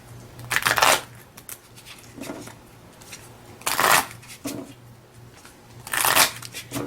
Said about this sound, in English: Go ahead and shuffle up really well.